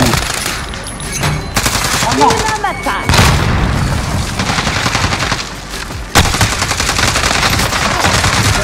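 Grenade blast in a Call of Duty match amid heavy gunfire: loud booms at intervals, sharp bursts of automatic fire in between, and faint voices under the battle noise.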